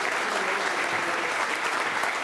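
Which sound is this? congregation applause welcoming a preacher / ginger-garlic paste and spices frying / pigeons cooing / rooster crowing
congregation applause welcoming a preacher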